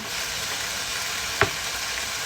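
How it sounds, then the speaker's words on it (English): Onions and mushrooms sauté in butter in a pan, a steady close hiss of frying with one brief louder crackle partway through; no talking. "Brown them, like saute them off in some butter"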